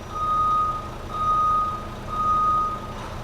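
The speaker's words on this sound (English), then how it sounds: "Checking to make sure the backup alarm is working." Three evenly spaced electronic beeps from a ten-yard truck's reversing alarm, steady and fairly loud over a low engine rumble.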